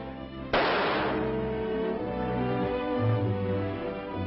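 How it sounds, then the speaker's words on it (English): A single sharp gunshot, a bullet fired into cotton, cracks loud and close at the start, then a long reverberant decay. "You can shoot a bullet into cotton and it will retain the gun barrel markings"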